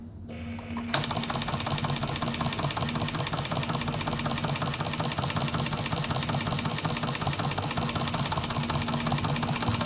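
A restored Cornely ACH postbed chainstitch embroidery machine stitching denim with a size 5 needle, claw foot and 15 thread starts up after a second and runs steadily with a fast, even mechanical clatter, loud and close, with no talk.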